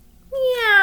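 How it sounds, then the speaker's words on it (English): A single rising, drawn-out cat meow, close and clear, breaks out of near silence in a children's audiobook reading. "They started down the dark hallway, following the cat's meow."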